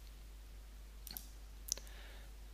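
A couple of sharp computer mouse clicks on a desk, one brief double click followed by a louder single click, alone over faint background hiss.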